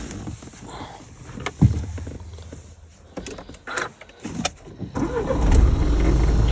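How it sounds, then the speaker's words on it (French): A Renault Talisman engine starting after a fuse and audio module swap, preceded by clicks and small handling noises in the cabin, then the engine catching and settling into a steady low idle. "La voiture démarre."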